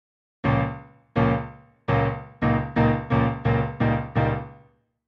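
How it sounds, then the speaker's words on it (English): Piano chords struck in a slow, steady pulse, about nine separate attacks each ringing and decaying before the next, alternating between two repeating chords, played alone and close. "So if I demonstrate on the piano, the change from one repeating chord to two sounds like this."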